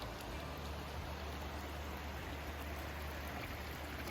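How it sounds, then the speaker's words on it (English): A creek with quite a bit of water flowing near Upper Bear River Reservoir, heard as a steady, dense rushing wash with no breaks, close and even throughout. "But there's quite a bit of water flowing, which is good."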